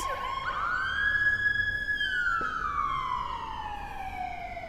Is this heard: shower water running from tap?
no